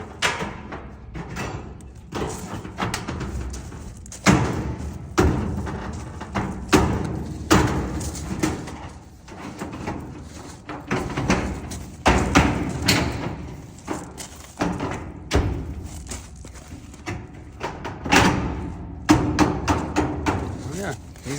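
A steel fence panel for a western Colorado installation is struck down into place with repeated heavy metallic thumps and bangs at an irregular pace, with a voice talking between the hits.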